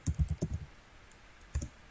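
Computer keyboard typing in short bursts of clicks, a quick cluster of keystrokes followed by a pause and a second brief burst, close and fairly quiet with no talking.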